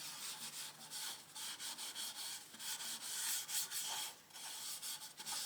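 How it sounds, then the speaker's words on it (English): Shellawax friction polish rubbed by hand onto a small turned elm bowl, a close, steady scrubbing of cloth on wood in quick repeated strokes with brief pauses and no talking. "So you just rub the Shello Wax on, the Triple E on"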